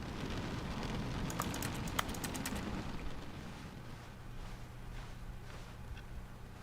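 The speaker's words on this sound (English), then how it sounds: "It's like raining." Steady soft patter of rain in the video game The Stanley Parable: Ultra Deluxe, falling across a surface, with a few brief sharp ticks early on and a low hum underneath.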